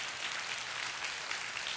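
A church congregation applauds during a Sunday service, a faint, even wash of clapping from a large room heard at a distance, with no voices over it.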